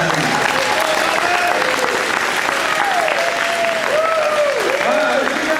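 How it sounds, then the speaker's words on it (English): A crowd at a wrestling event applauds students who work hard in class, dense clapping that holds steady and loud throughout with a few voices calling out over it. "give these guys a good applause here"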